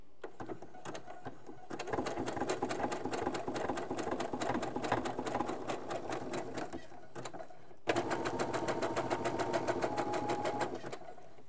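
A sewing machine runs a zigzag stitch along elastic on a pin-up shapewear panty, its rapid rhythmic whir steady and close, pausing briefly near the start and again partway through before resuming.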